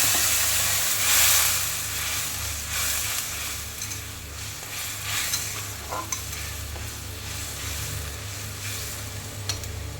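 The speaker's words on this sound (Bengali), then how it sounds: "মশলাটা এখন ভালোভাবে ভাজা যাবে না, তার জন্য কষিয়ে নেব।" A spice paste for a taro and fish curry is sautéed and stirred in a pan, making a loud, continuous sizzle and hiss with scraping stirs throughout.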